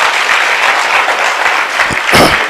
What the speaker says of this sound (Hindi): यहां तालियां चाहिए थी